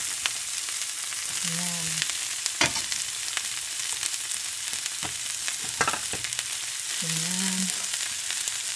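Winged beans sizzle in a pan with ginger and garlic, a steady close hiss of frying with a few stirring knocks, and a voice briefly speaks twice over it.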